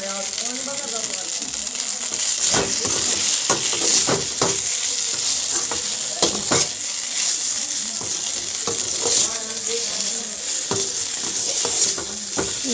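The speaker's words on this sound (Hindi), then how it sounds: "इसको मैंने जीरा डाल के फ्राई कर दिया है, और अब इसमें डाल रही हूँ ये" Pasta with cumin and pasta masala fries in a pan, with a continuous close sizzle and repeated stirring scrapes throughout.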